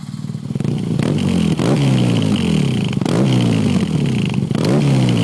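A BMW R nineT motorcycle fitted with an Akrapovic exhaust revs hard and close, its engine rising and falling in repeated throttle blips with a rough, loud exhaust note and no talking.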